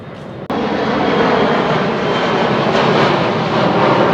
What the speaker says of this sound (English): another plane's coming over.